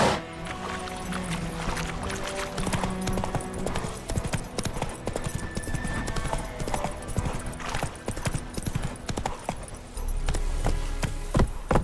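Roach, Geralt's horse in The Witcher 3, trots along at a steady clip-clop. The hooves sound close and keep up a continuous rhythm, with faint jingling tack and background game ambience underneath.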